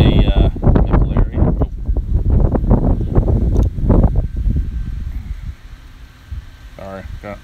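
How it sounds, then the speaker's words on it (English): Gusty wind buffets the microphone outdoors, a rough low rumble that rises and falls, loud through most of the stretch and easing toward the end. "Sorry, it's kind of windy out right now."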